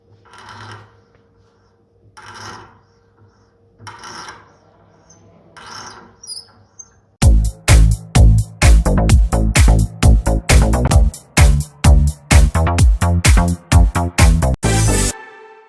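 Threading die cutting a thread onto a metal workpiece by hand, starting with a few soft, spaced scraping strokes before dense, loud, rhythmic clicking and grinding bursts in quick succession, close up.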